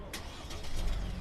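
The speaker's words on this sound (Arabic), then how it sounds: "بشغل لكم السيارة" A car engine cranks and catches close by, settling into a steady rumbling idle with a rising low-end drone, heard by itself without talk.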